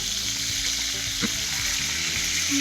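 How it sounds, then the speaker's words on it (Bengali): Pointed gourd frying in a pan after being flipped, a steady hissing sizzle, close and continuous with a brief knock partway through. "আমি এখন এক সাইড ভাজা হয়ে যাওয়ার ফলে আমি উল্টে দিচ্ছি।"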